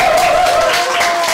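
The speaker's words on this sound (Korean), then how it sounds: "이럴 때 박수 한번 주시는 것 같아요" Audience applause for a university psychology lecturer at a lecture event, a dense broadband wash of many hands clapping close and loud without pause, with a faint tone running through it.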